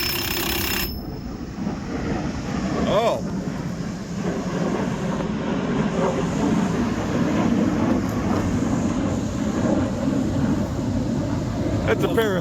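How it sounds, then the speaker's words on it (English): A pair of F-22 Raptor jet fighters passes overhead near a barn, a steady broad roar that holds loud for the whole stretch while someone talks over it. "yeah, that's a pair of Raptor jet fighters."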